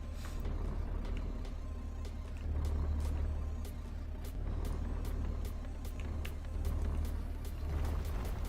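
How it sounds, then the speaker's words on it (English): A truck drives in the mining video game Hydroneer, a steady low engine rumble that swells and eases in waves, with light mechanical clicks over it and no talking. "Unless you're talking about the sound of the truck driving."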